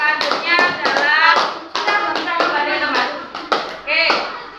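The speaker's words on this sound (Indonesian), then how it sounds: "Oke, kita beri tepuk tangan." A classroom of students claps for a presenting group, several bursts of close, dense applause with brief pauses between them, mixed with voices.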